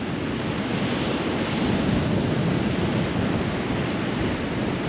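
Ocean surf breaks steadily on a rocky coast along the R27 near Cape Town, a continuous loud wash of waves with heavy wind buffeting the microphone and no voices.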